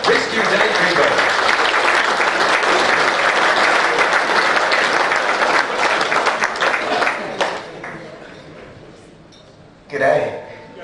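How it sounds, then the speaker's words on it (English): An after-dinner crowd at an aviation industry function applauds loudly and densely for about seven seconds, then the clapping fades out, with a short burst of renewed applause near the end of the clip. "Please do put your hands together and give a very warm round of applause for Rescue Dave Greenberg."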